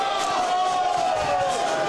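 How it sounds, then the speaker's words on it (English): A late-night baseball crowd at a packed ballpark on thunderstick night, a dense steady roar of cheering and noisemakers close around. "Crowd could go all night. This is a late night crowd."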